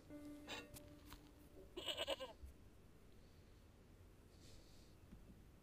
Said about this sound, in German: And the goat is caught, as you might expect.